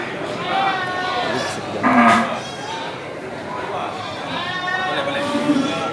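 Cattle at the Sibreh livestock market in Aceh, including bulls raised for beef, low lowing and moos rising out of a busy crowd murmur, with people talking throughout.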